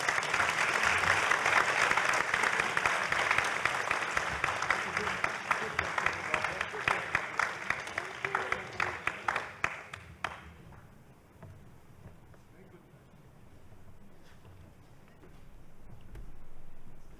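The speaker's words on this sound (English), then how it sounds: "Let's give the 3 panelists another round of applause." At a university forum, an audience applauds three panelists, loud and sustained clapping that thins into scattered claps before ending abruptly, leaving low room noise.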